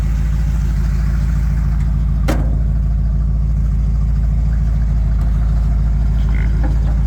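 Car engine with an Edelbrock 4-barrel carburetor and a new air filter idles steadily and loudly up close, a constant low rumble with a brief sharp tap partway through.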